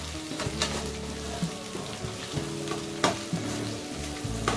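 Green chillies fry in a pan with a loud, continuous crackling sizzle, punctuated by repeated sharp spatters and scraping stirs at irregular intervals.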